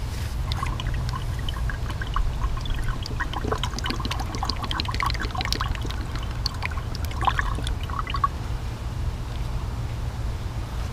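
Engine oil poured into the engine of a 2017 Ram 1500 during an oil change, a steady close trickling and glugging that runs throughout over a low background rumble.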